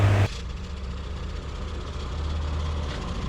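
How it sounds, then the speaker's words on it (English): A dump truck engine runs steadily at idle, a low continuous rumble holding for the whole stretch after a brief louder burst at the start, with no talking. "I need to bring my dump truck over here to put this dirt in"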